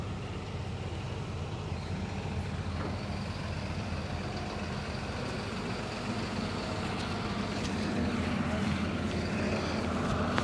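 A 35-tonne excavator slews round, its diesel engine giving a steady heavy rumble that builds slightly toward the end, with faint clanks and a voice talking in the background.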